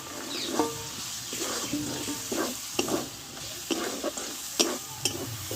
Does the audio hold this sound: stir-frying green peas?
yes